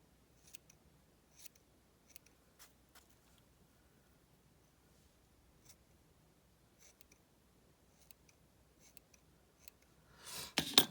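Scissors trim a craft gnome's beard in a run of sharp, quiet snips spaced about a second apart in a silent room, followed by a brief louder rustle at the end.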